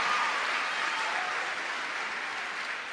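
An audience applauds after a motivational talk, dense steady clapping holding at an even level for a few seconds and tapering only slightly toward the end, with no voices over it.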